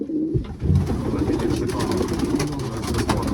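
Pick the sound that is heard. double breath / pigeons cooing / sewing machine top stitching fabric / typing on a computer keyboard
pigeons cooing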